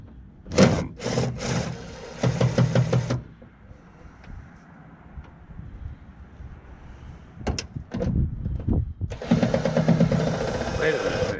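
An impact gun rattles out 10 mm bolts holding the rear wing on a 2016 Subaru STI, in two loud, buzzing bursts separated by a quieter stretch of workshop noise.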